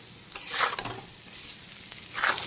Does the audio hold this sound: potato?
yes